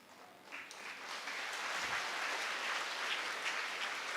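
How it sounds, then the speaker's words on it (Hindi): Applause from an audience at a sermon or religious discourse, a broad steady wash of clapping that swells after the first half second and holds evenly to the end, moderately loud. "आपने तो अंधाधुंध तालियां बजा दी"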